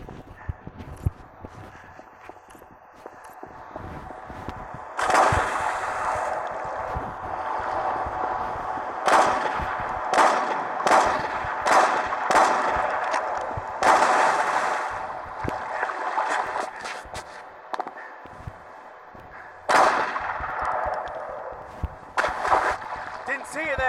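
Rapid sniper-rifle gunfire in the Gangstar 5 video game, a series of sharp repeated shots over steady background game noise, with a voice talking at times.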